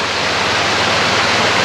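Water rushes and pours steadily down a stream course toward a reservoir, a loud, continuous broadband roar like a small waterfall, close by and unbroken, with no voices.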